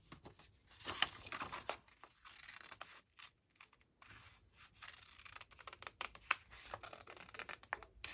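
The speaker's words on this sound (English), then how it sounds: "And then I'll use the little scissors." Small scissors make quick, faint snips through paper, irregular bursts of cutting with brief pauses and light paper rustling in between.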